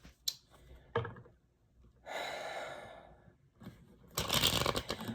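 Cards being shuffled at close range in bursts: a few short riffles early, a longer riffle in the middle, and a louder, dense riffle at the end, with quiet gaps between.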